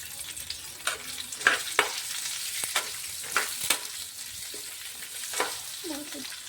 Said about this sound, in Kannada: ಈಗ ನಾನು ಇದ್ರ ಜೊತೆಗೆ ಈರುಳ್ಳಿ ಮತ್ತೆ ಹಸಿ ಶುಂಠಿನ ಕೂಡ ಹಾಕೊಂಡು ಫ್ರೈ ಮಾಡ್ಕೊಳ್ತಾ ಇದ್ದೀನಿ